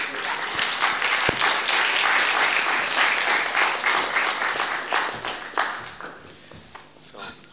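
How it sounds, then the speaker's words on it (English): Audience applause at a European Union policy talk as the next speaker takes the floor, dense steady clapping that gradually thins and fades out near the end, with a few stray voices. "Thank you for the applause."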